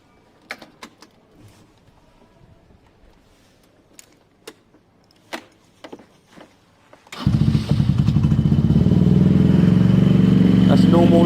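A moped scooter's small engine catches after a series of sharp clicks and knocks, then runs on at a steady, loud, buzzing idle.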